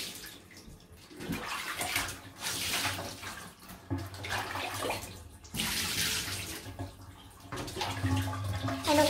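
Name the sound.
water running during a dog's bath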